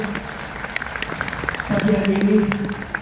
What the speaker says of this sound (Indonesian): Sekali lagi tepuk tangan lagi untuk kita semua yang hadir